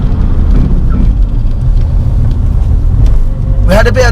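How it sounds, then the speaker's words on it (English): Brief high tyre squeal near the end of a hard stop from 50 mph in a Nissan Silvia S15 Spec R with low brake pads, rising over steady road and engine rumble. "We had a bit of tyre squeal there,"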